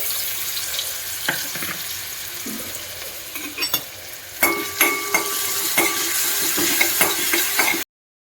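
Finely ground green chilies sizzle in hot oil with curry leaves and ginger-garlic paste while fenugreek bhaji is cooked, a steady close frying hiss broken by several sharp spoon scrapes and stirring clinks.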